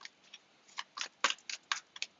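Tarot cards being shuffled close by, a quick run of crisp riffling and slapping bursts in an irregular rhythm, with no talk.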